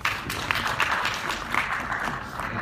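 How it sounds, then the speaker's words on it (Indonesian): Audience applause at a product presentation for WD Purple surveillance hard drives: a dense, steady wash of clapping at moderate volume throughout, with faint crowd noise underneath. "Oleh karena itu tepuk tangan untuk WD."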